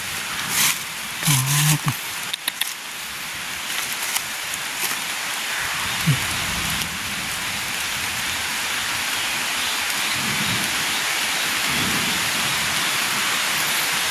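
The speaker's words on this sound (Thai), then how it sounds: "ฝนก็ตกแล้ววันนี้" Rain sets in over a forest campsite, a soft broadband hiss that swells and holds steady, with a few brief thumps and faint movement early on.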